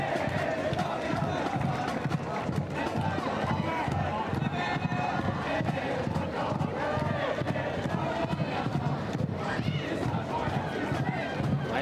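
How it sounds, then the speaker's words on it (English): Raucous crowd at a night women's college soccer match, NC State hosting Wake Forest at Dail Soccer Stadium, producing a dense, continuous roar of shouting and chatter that stays loud and steady throughout. "Raucous crowd here tonight at Dail Soccer Stadium."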